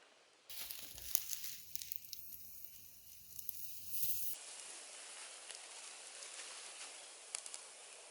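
Steak laid over a campfire, a brief burst of crackle and sizzle with small snaps, then a steady faint outdoor hiss as it cooks, quiet and close with no talk.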